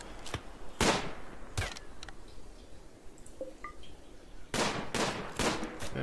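Sharp, separate gunshot cracks in RimWorld, a few spaced bursts at the start and a tighter cluster near the end, loud against a quiet background.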